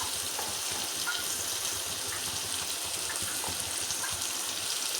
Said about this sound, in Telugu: వేసుకొని ఇలా బాగా వేగనిచ్చాలి